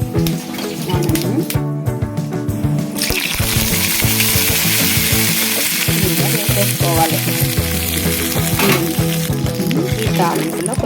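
Curry leaves and fenugreek seeds crackle and sizzle loudly in hot oil for a tempering, a steady, dense frying hiss with stirring, while a person speaks briefly over it.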